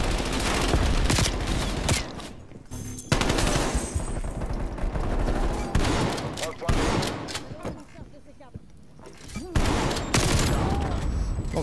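Loud, sustained video game gunfire from Call of Duty Black Ops Cold War: dense automatic bursts and heavy shots almost nonstop, with brief lulls between volleys and a voice speaking over the action.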